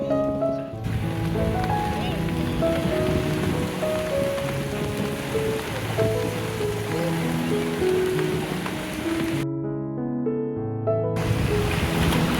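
A light monsoon drizzle falls on a beach at Taalsari by the sea, a soft steady patter blended with surf, while background music plays over it and cuts out briefly near the end.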